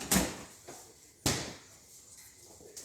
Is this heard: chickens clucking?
no